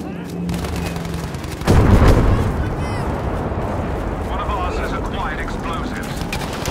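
Gunfire rattles through a Battlefield V battle, with a loud close burst of shots and blasts followed by sustained crackling fire and distant explosions, while a voice talks over the action.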